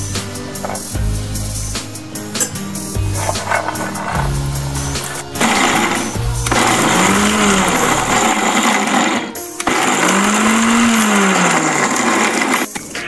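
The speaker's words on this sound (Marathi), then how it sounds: "हिरवं वाटण मिक्सरमध्ये वाटून घेतलेलं आहे" A mixer grinder whirs loudly, grinding roasted peanuts, cumin, coconut, coriander and garlic into a green paste, in several bursts with short pauses and changes in motor pitch, close and alone.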